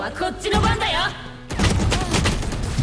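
Video game gunfire crackles in quick bursts and thuds, with a voice talking over the shots.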